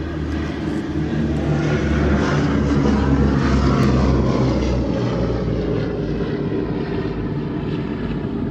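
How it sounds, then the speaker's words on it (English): The four piston engines of the B-17G Flying Fortress Sally B drone steadily on the take-off roll, a loud continuous propeller rumble with a rough low throb that holds for several seconds. "here it is on the roll, and what a pleasure to see this again. B-17G Flying Fortress Sally B."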